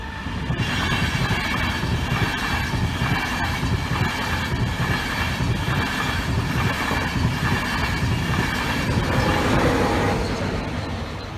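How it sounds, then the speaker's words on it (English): A Grand Central passenger train passes close by the Barnby Road level crossing, giving a loud, steady rumble and rush of wheels on rail with clickety-clack and faint squeal for the whole stretch, easing slightly near the end. "The Grand Central is vastly approaching."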